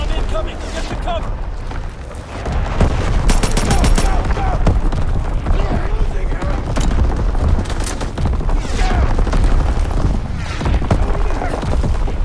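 Enemy artillery bombardment rumbles through a Call of Duty WW2 battle, with dense, continuous booms and crackling gunfire layered under voices, loud and sustained with no let-up.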